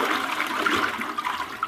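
Water rushes and gurgles steadily through a flushing toilet in a public restroom, a close, continuous swirl with no one speaking.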